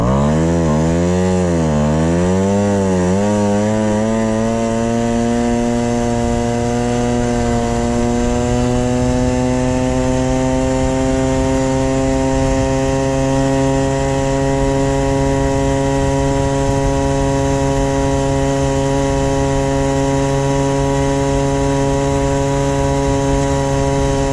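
A Peugeot 103 moped engine with a stock, derestricted variator runs steadily and loudly, its pitch rising at the start as it revs up and then holding a constant buzzing drone for over twenty seconds, with no voices.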